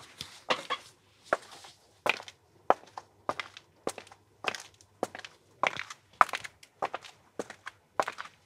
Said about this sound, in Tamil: நடக்கிற சவுண்ட்